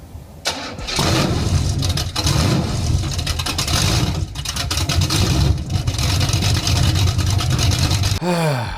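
A modified American muscle car V8, a 383, 454, LT1 or LS1, fires up and runs loud and close, with a rough, rumbling idle and revving throughout and a brief squeal at the end.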